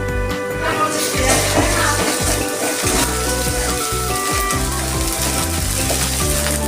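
Ginger-garlic paste hits hot oil while ghugni is cooked, giving a loud, steady, close sizzle and crackle of frying that runs continuously without pause.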